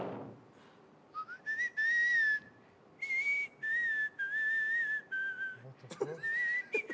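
A person whistles close by and clearly, in several sustained, steady-pitched phrases separated by short pauses, with a brief moment of talk at the start.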